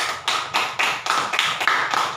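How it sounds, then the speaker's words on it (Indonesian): Children in a classroom clap their hands together in a steady rhythmic pattern, roughly four bursts per second, loud and close with no talking over it. "Tepuk tangan dulu kalau begitu semua berhasil."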